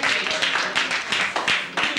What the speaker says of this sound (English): Hey, okay, round of applause.